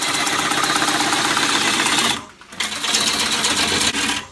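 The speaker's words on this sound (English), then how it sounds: "I like to turn everything as fast as I can, as fast as it will go, as long as it's securely mounted and not walking the lathe around the workshop" A wood lathe spins an ash wall platter at high speed in a workshop, giving a loud, steady mechanical whirring hum with rapid vibration that drops out briefly and then resumes, with no talking.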